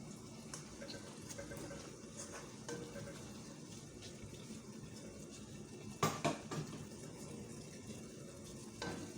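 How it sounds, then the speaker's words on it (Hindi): Water poured into a pan of shakshuka on the stove, a soft continuous pour with low sizzling and bubbling, then a few sharper clinks and splashes, quiet and close with no talking. "मैं इसमें पानी डाल दूँ कि अंडे अच्छी तरह पक जाए, जले भी नहीं"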